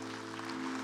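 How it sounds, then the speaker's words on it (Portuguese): A church congregation applauds during an evening worship seminar, a faint, steady wash of clapping with a low hum underneath. "Então dê um forte aplauso a Ele nessa noite."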